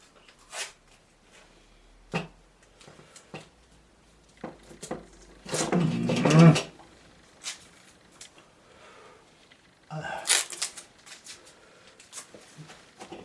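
Adhesive tape peeled and torn one-handed from a roll while mounting a small acrylic knife painting, giving a few short ripping bursts, the longest and loudest in the middle, with quiet handling noises in between and no talk.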